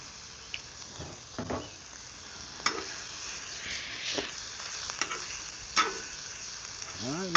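Steak sizzles and fries steadily on a wood burning stove for a cheesesteak, with a few sharp crackles and stirring scrapes over the constant hiss.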